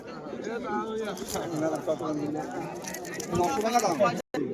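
Pigeons coo in low, rolling calls close by while people talk over them.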